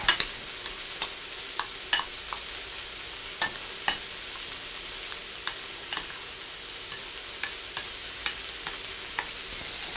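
An onion and lime mixture with a pinch of salt is stirred in a pan for an egg burger with guacamole: a steady soft hiss with scattered spoon clicks and scrapes, close and fairly quiet, with no talk.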